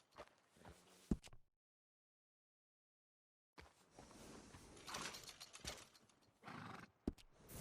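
A horse in the Red Dead Redemption 2 video game gives a neigh and clip-clops its hooves. The sound is fairly quiet and drops to full silence for a few seconds, then returns as shuffling hoof sounds with a sharp knock near the end.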